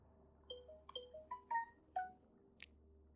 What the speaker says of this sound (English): That is a lovely ringtone. I would love to hear more of it.